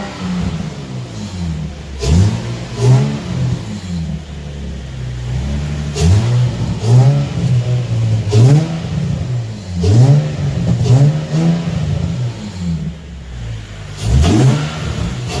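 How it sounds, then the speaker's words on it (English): A Nissan VQ35DE V6 car engine revved repeatedly from idle, loud close bursts rising and falling in a regular series of blips, with no talking. "I'm gonna give it a few revs."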